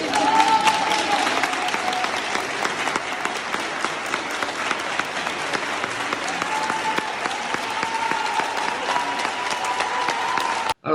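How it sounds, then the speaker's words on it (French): Sustained applause from a large crowd, steady and dense clapping that continues for the whole stretch before cutting off abruptly. "les applaudissements sont de sortie"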